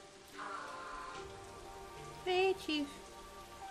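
Rainfall in the video game Rain Code, a soft steady patter beneath game music and tones, with a short spoken line partway through.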